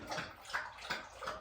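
A dog laps water with quick, repeated wet slurps in a steady rhythm, close and fairly quiet, with no voices over it.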